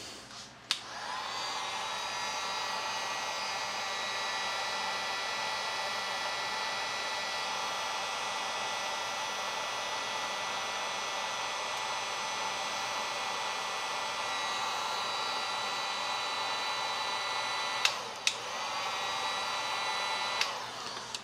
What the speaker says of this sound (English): Now I'll use the heat gun and we'll test the switch if it turns off.